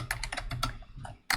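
Quick bursts of keystrokes on a computer keyboard, about eight close clicks in an uneven typing rhythm, then a brief pause and a final sharper tap like a click, with no voices.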